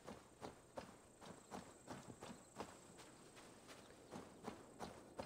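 Horse hooves clop in steady, evenly spaced beats while walking in Assassin's Creed Valhalla, moderately close and alone at a low level, with faint game ambience underneath.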